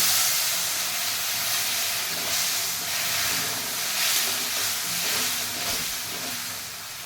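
Water hits a hot pan of dhaba-style chicken curry, raising a loud, steady hiss and sizzle that holds for about seven seconds with no talking.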